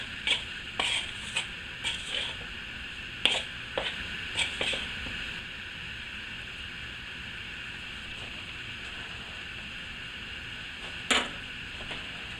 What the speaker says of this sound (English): And just get it stirred to where it's just starting to stick together a little bit.